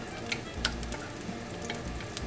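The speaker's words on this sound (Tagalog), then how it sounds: "Sa isang maliit na kawali, maglagay tayo ng cooking oil at kapag mainit na ito, pwede natin ilagay ang bawang." Garlic fries in hot cooking oil in a small pan, a continuous soft sizzle with light crackles and occasional stirring scrapes, heard close and alone.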